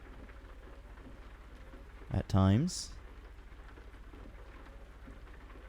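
Steady rain falls in American Truck Simulator, a constant hiss filling the whole stretch, with a voice briefly speaking over it.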